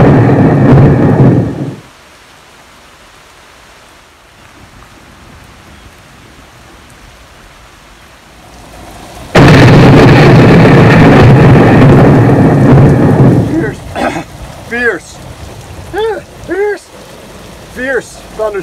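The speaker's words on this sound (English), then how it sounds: "Fierce thunderstorm caught on the water." A fierce thunderstorm pours heavy rain over a lake, with a loud roar of rain and a booming thunder rumble, then a quieter stretch before the downpour surges again. Short vocal sounds come near the end.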